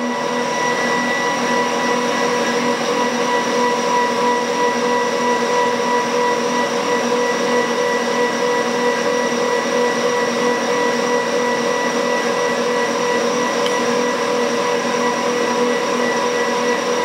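A steady, even electric hum and whine from an e-bike's regenerative motor running at 20 km/h, constant and fairly close with tonal layers that barely change over the whole stretch, no voices.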